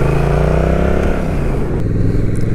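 Honda Rebel 1100 motorcycle with a baffle silencer fitted, riding along with a steady, loud engine drone and shifting harmonic tones as it pulls, close and continuous with no talk.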